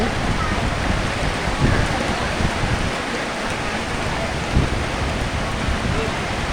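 Heavy rain pours down in a dense, steady roar that stays loud and constant throughout, with no breaks or letup.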